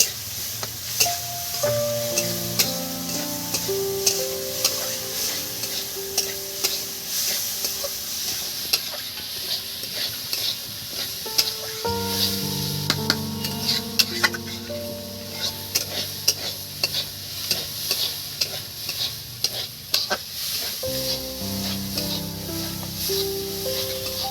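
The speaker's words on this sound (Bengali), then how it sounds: "এবার এটাকে নেড়ে চেড়ে নেবো।" Bottle gourd and mung lentil dal being stirred in a pan, with a steady scraping and soft sizzling that runs throughout under background music.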